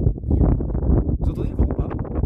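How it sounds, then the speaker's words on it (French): Wind in the Swiss mountains: steady, low buffeting rumble close to the microphone, gusting unevenly throughout with no other clear sound. "Vous entendez le vent ou pas?"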